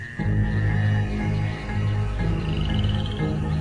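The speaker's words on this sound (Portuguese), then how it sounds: "A noite é tomada pelo som das rãs." Dense chorus of frogs croaking continuously at night in a jungle, layered calls overlapping loudly with a high trilling note running through.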